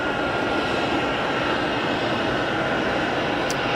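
An airliner from Barcelona on final approach to Geneva's runway 22 produces a continuous, broad engine and air roar, steady and fairly distant, with no talking.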